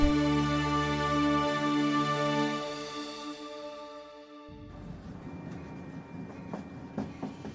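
A train-running sound effect in a spoken story, a train travelling from Howrah to Suri station in Birbhum: a steady rumbling drone fades, then a quieter rattling passage with faint rhythmic clicks follows, with no speech over it.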